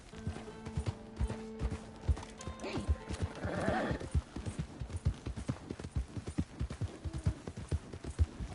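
Rhythmic clip-clop of a horse's hooves at a steady gait in the game Red Dead Redemption 2, with a whinny partway through and a rider's voice calling out over the hoofbeats.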